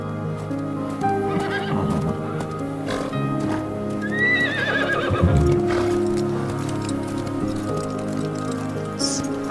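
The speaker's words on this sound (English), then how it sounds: "A horse." A horse whinnies in a loud, rising neigh at close range while hooves clip-clop in an uneven rhythm, with a soft, damp patter underneath.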